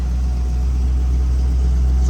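A 1968 Shelby GT350 with a four-speed and factory exhaust idles close by, putting out a steady, deep low rumble with no breaks.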